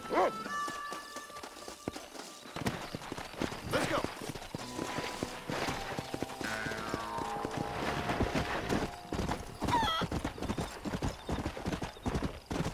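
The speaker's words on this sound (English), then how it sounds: "Get a horse to race with while I get mine." Rapid, steady hoofbeats of a galloping horse in Red Dead Redemption, over a busy game soundscape, with a brief whinny and other effects layered in.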